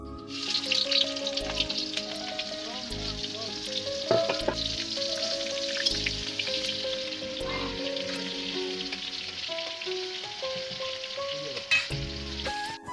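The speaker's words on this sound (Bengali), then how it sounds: "এইদিকে পোলাও ভাতটা রান্না চলতেছে" Pulao rice cooking in a pot gives off a steady, close sizzle that runs the whole time under a soft musical backing.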